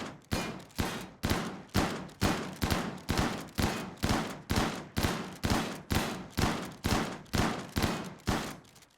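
Rapid bursts of chaingun fire in a video game, loud and close, pounding out in a steady rhythm of roughly two shots per second for the full stretch with no voices.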